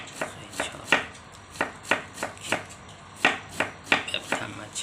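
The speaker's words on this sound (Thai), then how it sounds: "วิธีหั่นกะหล่ำฝอย" A knife chops cabbage and carrots on a board in a series of crisp, evenly spaced strikes, close and clear, with no talking.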